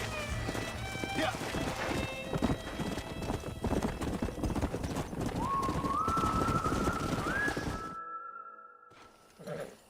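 Horse hooves clip-clop in the Red Dead Redemption video game, a steady trotting rhythm with a whinny, under game music and voices before the sound cuts out.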